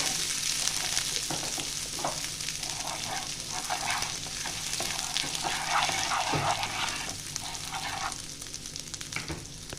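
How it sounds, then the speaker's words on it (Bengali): Grated ginger and cumin fry in a pan, a steady close sizzle with intermittent stirring scrapes and clinks over the hiss. "আদাটা একটু ভাজা হবে।"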